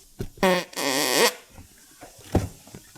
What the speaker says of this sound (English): Nice fart.